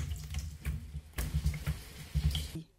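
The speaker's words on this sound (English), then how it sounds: "wash the ITSEGHE leaf neatly" Itseghe leaves are washed by hand in water for a Nigerian dish, giving a series of close wet splashes, squishes and drips in irregular bursts.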